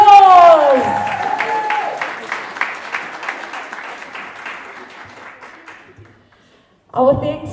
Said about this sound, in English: So again, one last time, we are going to give them a hearty round of applause